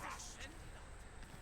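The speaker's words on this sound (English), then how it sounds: "Oh, dogs." Dogs in Enotria: The Last Song bark and yip briefly at a distance, faint under a dense wash of game ambience and a nearby voice.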